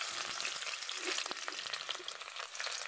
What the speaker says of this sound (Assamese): হ'ল মিঠাতেল গৰম। তাৰপিছতে মই ঢালি দিম এতিয়া পিঁয়াজ আৰু জলকীয়া।